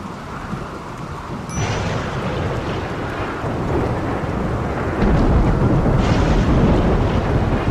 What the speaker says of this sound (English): Man, it's really raining right now.